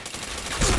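Quick burst of gunfire from a PointBlank first-person shooter match, faint and muffled, rising into a louder crack near the end of the brief moment.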